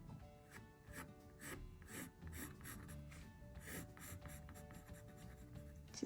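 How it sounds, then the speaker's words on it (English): A pencil draws a capybara's limbs on paper, giving soft, close, continuous scratching strokes in quick irregular bursts. "Now for the limbs, so I'm going to be drawing a triangle here."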